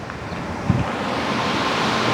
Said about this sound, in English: it's the bottom of a waterfall right here, which is nice